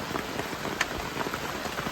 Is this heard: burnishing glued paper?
no